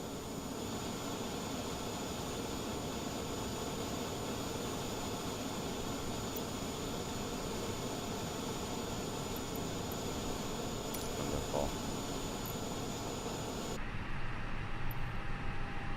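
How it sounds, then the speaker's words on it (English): Jet airliner engines spooling up during pushback in a flight simulator game, a steady broadband roar with a high whine holding throughout, loud and continuous, changing tone near the end, with a brief spoken word over it. "You can start the engines in sequence."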